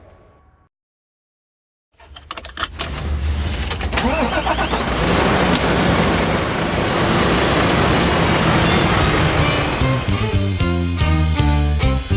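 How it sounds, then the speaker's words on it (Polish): MAN truck with a D38 engine revs loudly from silence, a strong sustained engine roar building as it pulls away, with gear changes near the end. "Ale najpierw pojeździmy manem z silnikiem D38."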